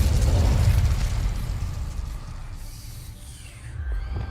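Incendio fire spell cast in the Hogwarts Legacy video game: a loud, low roaring whoosh of flame that bursts at once and then slowly fades over several seconds, with a faint rumble rising again near the end.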